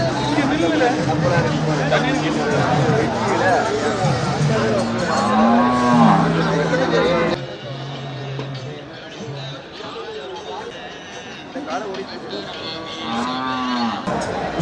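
Cattle moo repeatedly with long, low calls over a noisy crowd of chattering voices at the Melapalayam cattle market in Tamil Nadu.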